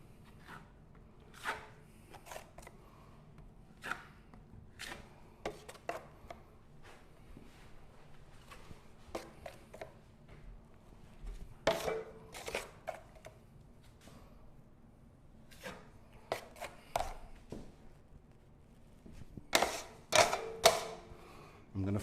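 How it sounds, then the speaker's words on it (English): An 8-inch drywall knife spreads a wider coat of joint compound over a patch, making intermittent scraping and tapping strokes that are quiet and close, with louder clusters of scrapes near the end. "I'm going to use my 8-inch knife, and I'm going to put a little wider coat."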